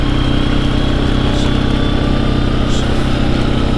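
A Suzuki KingQuad ATV engine runs steadily at close range while riding, with an even, buzzing drone and faint rattles, no talking heard.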